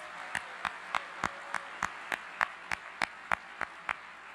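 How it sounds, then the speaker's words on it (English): Audience at a fall convocation ceremony applauding faculty and staff award winners, heard as a steady series of sharp, evenly spaced claps about three per second, moderately loud and without talk. "please keep that applause going for all of the folks who made today's ceremony possible."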